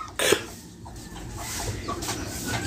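Newly hatched chicks being lifted out of an incubator on day 21 give bright, fairly close chirps and clucks, with a sharp burst near the start and softer calls scattered over low background noise.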